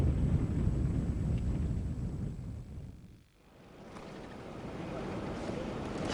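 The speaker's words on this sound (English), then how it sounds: "The desert storm shows no sign of abating." A desert storm blows as a strong, rumbling gusty wind with heavy buffeting. It dips briefly to a quieter lull midway, then builds back into a steady roar.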